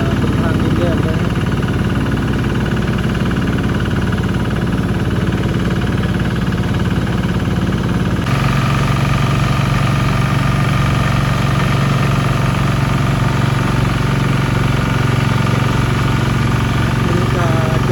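A farm utility vehicle hauling rice on a red-dirt hill track in a village runs its engine in a loud, steady, close chugging drone. Its tone shifts partway through and continues unbroken.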